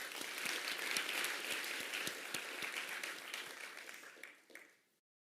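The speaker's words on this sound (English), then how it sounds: "Please give yourself a round of applause." Conference audience at a tech developer summit applauds, with dense, fairly even clapping from a large crowd that holds steady for several seconds and then tapers off to silence.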